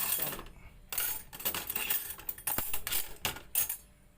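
Metal spoon clinking and scraping against a plate of glass noodle omelette, a run of close, bright taps and clatters at an irregular pace with quiet gaps, no talking.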